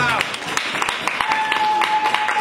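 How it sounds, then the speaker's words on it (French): An audience at an official outing of a Congolese mothers' association in Belgium claps for the president's speech, a brief patter of scattered hand claps mixed with voices and a faint sustained tone. "On va applaudir le discours de la présidente."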